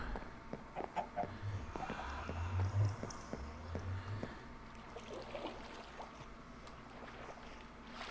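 Chickens clucking in a blocky Minecraft-style survival game, a few short clucks and low squawks scattered over soft game ambience, with faint background noise and no talk.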